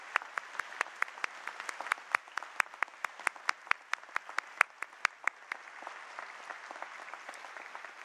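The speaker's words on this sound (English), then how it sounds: "give them a good round of applause, our new Hong Kong youths" An audience at a new-student inauguration ceremony in Hong Kong applauds steadily, with many crisp individual claps standing out over a dense wash of clapping that holds at moderate level throughout.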